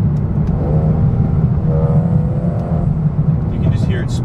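A 2020 Mercedes A35 AMG with its engine droning loudly and steadily from inside the car, a faint whine rising and falling, and a few sharp crackling exhaust pops near the end.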